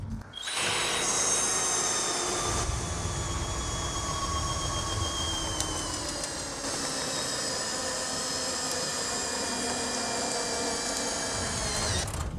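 A Skil 3080 cordless screwdriver whirs steadily as it drives screws and a bolt, a continuous motor whine held for several seconds with slight pitch shifts, close and prominent.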